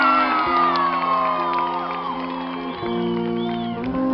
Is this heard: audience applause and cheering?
yes